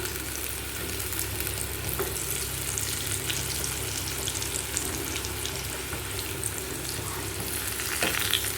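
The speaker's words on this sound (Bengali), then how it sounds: "আলুগুলো ভাজা হয়ে গিয়েছে একদিকটা উল্টে দিচ্ছি" Potatoes sizzle and fry steadily in oil in a wok, a loud, continuous crackling hiss that runs throughout with faint stirring scrapes and no talk.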